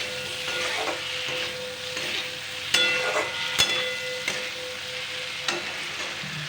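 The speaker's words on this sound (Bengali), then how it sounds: "লম্বা করে ফ্রাই করা আলু আর ডিমগুলোকে প্রথমে ভালো করে আমি কষিয়ে নেব এর মধ্যে।" Fried potatoes and eggs sautéing in oil, a steady close sizzle with occasional spatula taps and scrapes against the pan.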